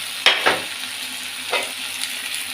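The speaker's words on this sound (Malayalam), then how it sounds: "ഞാൻ ഇതിലേക്ക് ഈ കുരുമുളക് പൊടിയും മഞ്ഞൾപ്പൊടിയൊക്കെ ഇട്ടിട്ട്" Masala for a fish curry fries in a pan as pepper and turmeric powder are stirred in. Three or four sharp scraping strokes cut through a continuous close sizzle.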